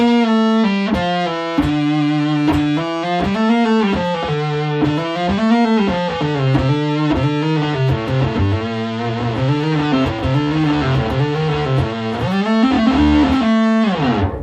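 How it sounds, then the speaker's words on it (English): A heavily fuzz-distorted electric guitar through a fuzz firmware effect plays a sustained, legato riff, loud and saturated throughout, ending abruptly. "The intensity of the distortion is equal even on the notes that I'm not actually plucking."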